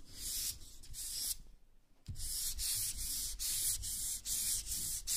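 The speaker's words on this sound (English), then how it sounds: "Just rubbing our lock." Fine-grit sandpaper, around 3000 grit, rubbing back and forth over an old lock in steady repeated strokes, close and loud, with a brief pause midway before the scraping resumes.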